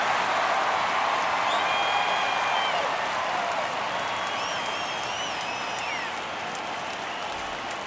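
Baseball stadium crowd in MLB The Show 24 during a postseason game, a broad, steady murmur with scattered whistles and cheers, distant and sustained, tapering slightly toward the end.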